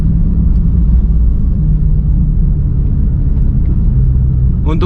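A Porsche 911 GT3 992 rolling at about 30 km/h with its front air suspension raised, giving a steady low engine and road rumble from inside the cabin, with a faint brief sound at the very end.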